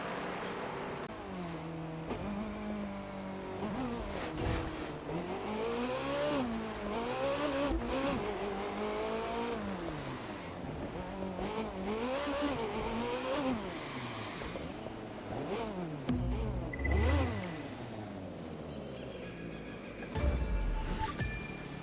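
A car in The Crew 2 is driven hard near a harbor. The engine revs rise and fall repeatedly as it shifts through gears, with brief tire noise and bumps, loud and continuous without speech.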